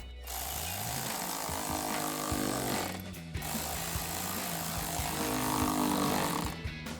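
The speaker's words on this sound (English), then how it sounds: "now we're gonna grab our ratchet and extension and 8mm socket, tighten down our 2 clamps" Ratchet with an extension and 8mm socket tightening two intake clamps on a Silverado 2500, a close, buzzing mechanical clatter in two sustained runs with a brief gap between them.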